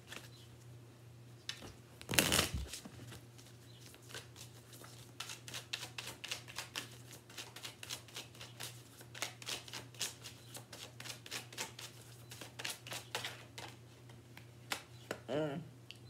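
A tarot deck is shuffled up close, a rapid patter of light card snaps and flicks going on almost the whole time after one louder rustle near the start, over a faint steady hum with no speech.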